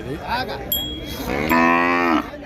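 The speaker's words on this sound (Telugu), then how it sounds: "దూడ తల్లి పోయిందని అరుస్తుంది కదా." A young calf at a busy weekly cow market in Pebbair bawls for its mother with one loud, drawn-out moo. Someone says a word just before it, and low crowd murmur sits underneath.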